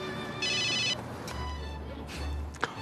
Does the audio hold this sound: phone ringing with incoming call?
yes